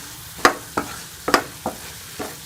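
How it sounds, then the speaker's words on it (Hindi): Spices roasting in oil in a pan give a low sizzling hiss broken by about five distinct scraping stirs of a spoon, irregular and close, with no talking. "इसमें 1 से 2 मिनट जो है वो मिसालों को अच्छी तरह से भून लूँगी"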